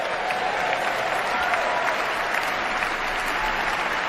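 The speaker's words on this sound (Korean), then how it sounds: "관중들이 뭐 기립박수를" A large audience rises in a standing ovation, sustained loud applause and crowd noise that holds steady and dense from start to end.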